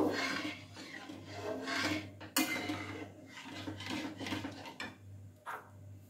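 Semolina and milk are stirred in a pan for a sweet offering, a soft repeated scraping and rasping of a spoon against the metal in slow strokes, with faint clinks and a low steady hum behind.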